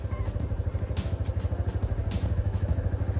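A motorbike moves slowly in first gear, its engine making a steady low throbbing thump with a rattling clatter on top, heard close and without any talk.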